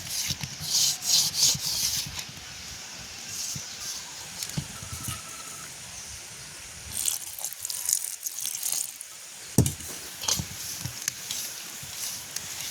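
Puri dough is kneaded by hand with coconut milk in a village setting, giving soft, wet rubbing and squelching strokes in irregular bursts, fairly close and quiet.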